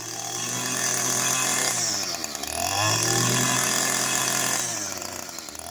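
An Echo SRM 230 string trimmer's small two-stroke engine being warmed up: a loud, buzzing whine that revs up, dips, revs again and then settles back, heard close and alone.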